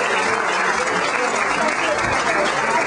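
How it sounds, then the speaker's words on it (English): A comedy club audience applauds a stand-up comedian as he takes the stage: a loud, dense and unbroken wash of clapping with crowd noise mixed in, close and filling the room. "Big round of applause for Buddy Bolton."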